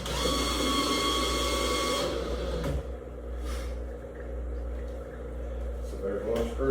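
Power drill driving a screw into a plastic bait tank molding, a steady motor whine for about two seconds that stops abruptly, followed by quieter handling noise and low background hum.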